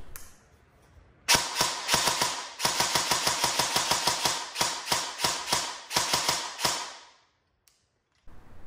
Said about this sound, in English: before I shoot this gun, or at least cycle the gun